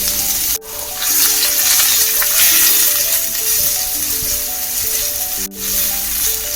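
Sliced onion, ginger, green chili and curry leaves sizzle in hot coconut oil for a jackfruit seed curry. A loud, steady hiss runs throughout, dipping briefly twice during stirring, with soft melodic tones underneath.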